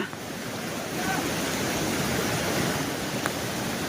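Floodwater of the Ojat river roars through a breached embankment in the Ghed area of Junagadh during monsoon rain, a loud, unbroken rushing wash mixed with wind buffeting the microphone.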